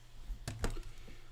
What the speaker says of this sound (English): I'm still here. I'm just typing.